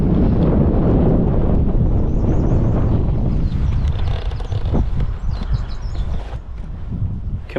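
A strong headwind buffets the microphone during a boat ride on the White River, a loud, continuous rumbling roar that eases slightly toward the end, with faint outdoor sounds underneath and no talking.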